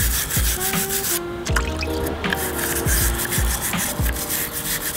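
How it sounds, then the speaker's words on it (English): Wire brush scrubbing rust off an old steel engine block, a close, uneven rubbing and scraping made of short repeated strokes with small knocks and clatters between them. "So, with a wire brush."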